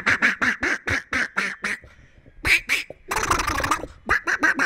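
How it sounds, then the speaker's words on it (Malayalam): A flock of Kuttanad ducks quacks loudly and close by, a rapid rhythmic run of harsh calls with a brief pause and a noisy flurry before the quacking resumes. "കുട്ടനാടൻ താറാവുകൾ കൂട്ടമായി നാടുവിട്ടു."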